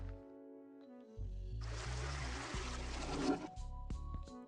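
Dust is flushed down a toilet in a prison escape video game. A rushing, gurgling burst of water surges in and then fades, set over soft game music tones.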